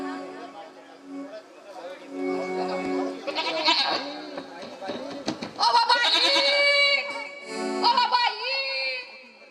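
A goat bleats several times in wavering cries, mixed with people talking nearby.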